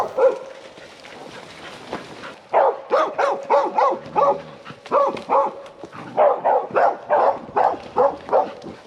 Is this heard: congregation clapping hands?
no